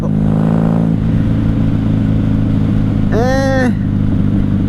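A 1994 Honda Magna 750 VF750C motorcycle engine runs steadily and loudly up close, a constant droning rumble throughout with a brief tonal whine rising partway through.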